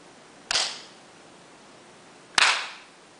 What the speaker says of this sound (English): I'm going to clap my hands and just listen